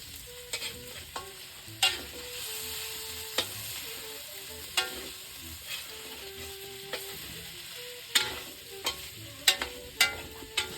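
Spaghetti being stirred in a pan on the stove, utensil scraping and clacking in irregular bursts over a soft steady sizzle, fairly close and clear with no one talking.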